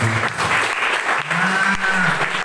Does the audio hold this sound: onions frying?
no